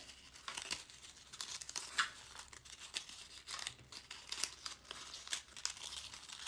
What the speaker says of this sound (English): They could unwrap their stars and find your cool messages inside.